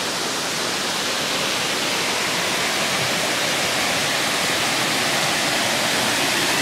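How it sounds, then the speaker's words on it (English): A man-made waterfall at Glendale Shoals Greenway pours continuously in a loud, steady rushing hiss, heard from close by, with no voices. "There's a waterfall, guys."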